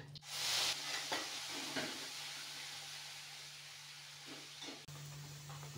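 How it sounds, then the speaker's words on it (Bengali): Cumin seeds, a pinch of hing and ginger-onion-garlic paste hit hot oil in a kadai, bursting into a loud sizzle that settles into a steady hiss with light stirring scrapes. "ওর মধ্যে দিয়ে দেব সাদা জিরে, সামান্য হিং, আদা পেঁয়াজ রসুনের পেস্ট,"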